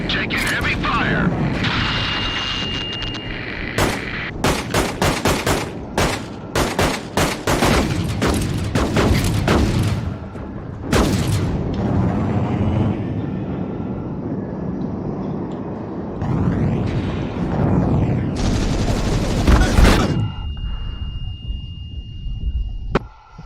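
Heavy gunfire in a Subnautica game: clustered bursts of sharp loud shots and booms crackle across the stretch, broken by brief lulls, with a synthetic voice and other game sounds mixed in among the volleys.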